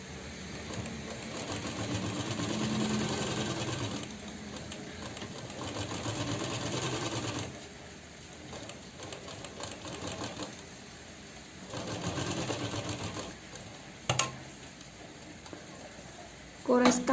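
A sewing machine stitches the armpit and side panels of a velvet pheran, running in bursts of steady mechanical whirring with brief pauses, while someone talks over it.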